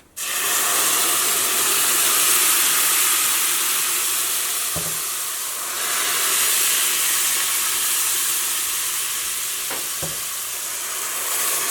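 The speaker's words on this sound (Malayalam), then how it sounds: "പാല് നന്നായിട്ട് തിളച്ചിട്ടുണ്ട്" A pot of milk boiling hard for semiya payasam, a continuous close bubbling hiss with two soft clinks partway through.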